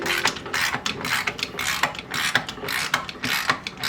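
A ratchet wrench tightens the slip-on exhaust clamp on a 2019 Harley-Davidson Street Glide Special, its rapid metallic clicks coming in quick uneven bursts, loud and close with no talking.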